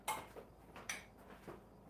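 Utensil stirring noodles and ground beef in a cabbage stir fry bowl, a few light scraping clinks against the bowl in an uneven rhythm, close and fairly quiet with no talk.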